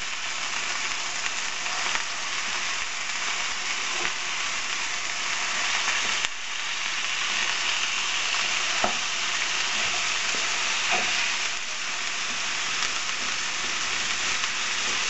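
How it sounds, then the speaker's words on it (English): Mince sizzles and spits in hot oil in a pan, a steady close hiss with scattered pops and a few scraping stirs, with no voices. "good to cook when it sizzles like that on contact"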